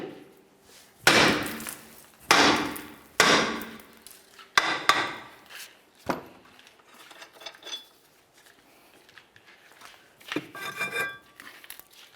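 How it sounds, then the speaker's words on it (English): A hammer strikes a rusted rear brake drum on a 2007-2012 Nissan Sentra, with a lug nut threaded on for protection. About eight sharp metallic bangs come at irregular intervals, some ringing briefly, and the pauses between them are quiet. "I'm just going to give it a loving bonk with the hammer to try to break it free"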